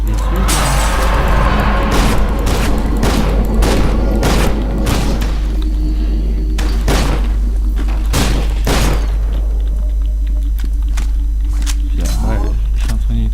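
Gunfire in the shooter game FEAR 2 rings out as repeated loud, sharp blasts in quick bursts over a constant low rumble, with some talking mixed in.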